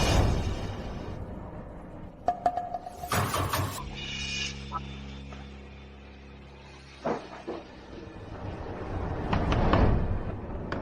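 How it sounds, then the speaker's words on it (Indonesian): Several sharp knocks on a door ring out in a quick cluster, followed by a drawn-out creaking or scraping sound and a few more thumps, with a low background rumble under it. "Ngapain kau mengetuk-ngetuk?"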